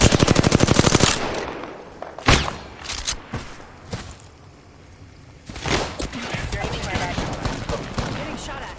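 Automatic gunfire in Apex Legends starts as a loud rapid burst, then a few single heavy shots follow, then more sustained firing comes amid game noise, with game voices at times.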